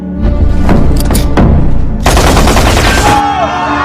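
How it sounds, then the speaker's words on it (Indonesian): Rapid gunfire and heavy booms from a battle scene in an Indonesian independence war film, loud and dense, with bursts of shots and a sustained blast of automatic fire near the end. "Baku tembak pun terjadi."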